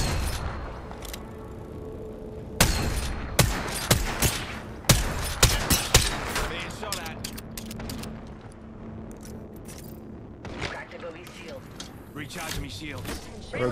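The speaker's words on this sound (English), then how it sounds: "Broke the sniper shield." Sniper shield shattering in a first-person shooter, heard amid a busy mix of sharp gunfire cracks and impact bursts, with players talking over the action.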